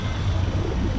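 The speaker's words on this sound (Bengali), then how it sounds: "যতগুলো কবুতর আছে ঝাপড়ির মধ্যে" Pigeons coo inside a loft holding more than a hundred birds, a close, low, soft burbling that runs through a second-long moment.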